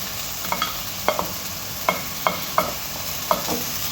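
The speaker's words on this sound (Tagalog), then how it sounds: "Mix, mix, mix. Mixing, mixing." Tomatoes being stirred into meat in a cooking pan, a spoon scraping and clacking in about eight sharp, irregular strokes over a steady bed of frying sizzle.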